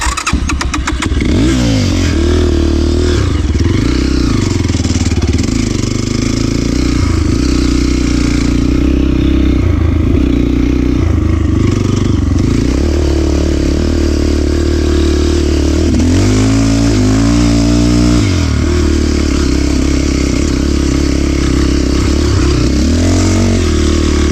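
A KOVI 250 Advance enduro motorcycle rides through snow on a winter mountain climb, its engine loud and close throughout, repeatedly revving up and dropping back as the rider works the throttle.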